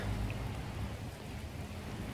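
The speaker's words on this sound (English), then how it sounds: "I don't know if the camera captures the rain." Steady rain falling around someone sheltering under a tree by a bowling green, a dense even hiss of drops on leaves and ground, constant and fairly close with no voices.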